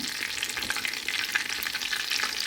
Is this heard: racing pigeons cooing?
no